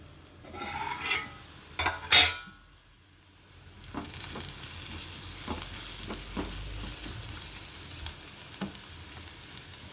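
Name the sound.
onions frying in a pan for chana dal curry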